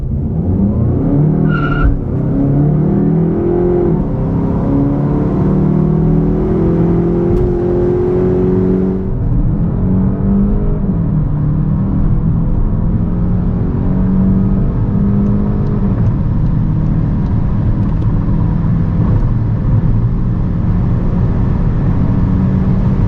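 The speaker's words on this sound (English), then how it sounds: "let's check out what the GTE is doing with that small and tiny petrol engine plus the electric motor" Volkswagen Golf 8 GTE plug-in hybrid, small petrol engine paired with an electric motor for 245 hp, accelerating hard: a loud, continuous engine drone that climbs steadily in pitch, dropping briefly at gear changes before rising again, with no talking.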